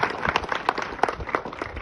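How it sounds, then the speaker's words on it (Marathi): Audience applause for Dr. Kumar Londhe at a university nameplate unveiling ceremony, a steady spread of many hands clapping at moderate distance, continuous throughout without any talking. "त्यांच्यासाठी एकदा जोरदार टाळ्या झाला पाहिजे"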